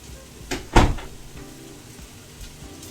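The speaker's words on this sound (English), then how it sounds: "Let's close the bedroom door." A bedroom door is pushed shut at home, one firm thud preceded by a light creak, close and fairly loud, followed by quiet room noise with faint small knocks.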